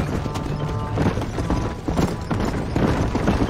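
A horse gallops in the video game Red Dead Redemption, its rapid hoofbeats drumming steadily and loudly up close under a continuous bed of game sound, with no talk.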